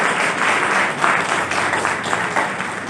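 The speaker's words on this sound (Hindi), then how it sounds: "जोरदार तालियों से इनका स्वागत करें।" An audience at a Hindi poetry gathering applauds to welcome a poet, a dense, loud burst of clapping that holds steady throughout with no speech over it.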